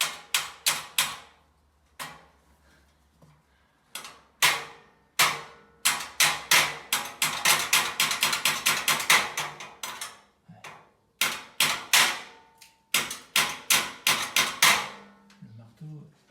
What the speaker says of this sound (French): Il n'y a plus qu'à mettre un petit coup de marteau là-dessus.